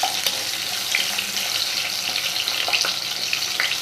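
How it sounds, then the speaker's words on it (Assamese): Potato pieces frying in hot oil for an Assamese pigeon curry, a steady crackling sizzle with scattered pops and spits, close and even throughout. "অকণমান ৰংচোৱা হোৱালৈকে মই আলুখিনি ভাজি ল'ম।"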